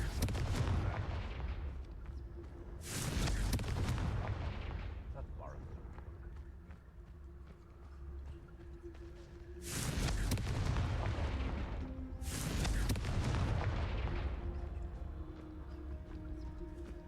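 Fire spell blasts cast in Hogwarts Legacy, four loud booming bursts spaced several seconds apart over a steady game backdrop, with a voice talking between them.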